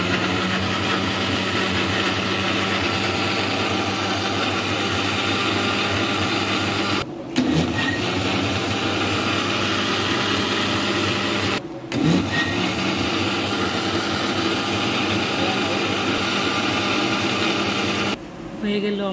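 A kitchen blender whirs steadily, blending dragon fruit with sugar and milk into a sweet drink, the motor drone loud and continuous with two brief pauses midway and another near the end.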